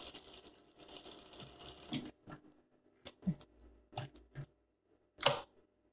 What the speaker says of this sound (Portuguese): Vou costurar aqui 1 centímetro que eu deixei para fazer a barra.